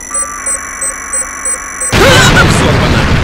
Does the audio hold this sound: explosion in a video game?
yes